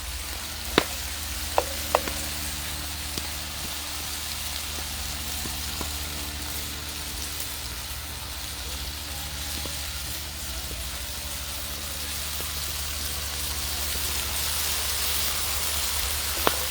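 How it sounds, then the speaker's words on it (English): Garlic frying in a pan over an outdoor fire gives a loud, continuous sizzle with a dense crackling hiss that runs unbroken throughout, with a few sharp clicks near the start. "Now I'm putting in some garlic in there."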